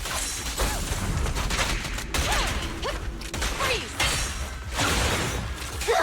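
Rapid automatic gunfire rattles in bursts during a Zenless Zone Zero fight, loud and continuous with mechanical clatter and short gaps between volleys.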